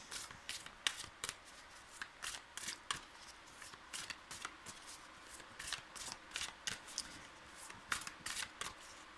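Tarot cards being shuffled and dealt, a steady series of crisp riffling and snapping bursts close up, each short and repeated at an even pace throughout, with no talk.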